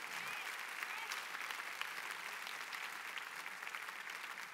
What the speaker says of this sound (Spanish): Si vas a aplaudir, hazlo con más ganas